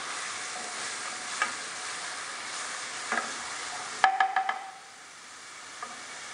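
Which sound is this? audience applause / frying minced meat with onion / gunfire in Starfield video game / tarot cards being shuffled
frying minced meat with onion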